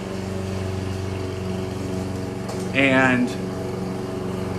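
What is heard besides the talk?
lawn mower running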